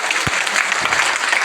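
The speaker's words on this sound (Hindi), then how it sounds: "ताली बजाओ।" Audience applause at a network-marketing seminar in a cultural hall, a dense burst of clapping from a large crowd that fills the whole moment, loud and close with no talk over it.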